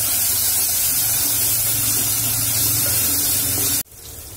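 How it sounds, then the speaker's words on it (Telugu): Ginger garlic paste sizzles in hot oil in a pan for crab curry, a loud steady hiss that cuts off abruptly near the end. "అల్లం వెల్లుల్లి పేస్ట్ ని వేసుకొని ఇలా 2 నిమిషాల పాటు ఫ్రై చేసుకున్నాక"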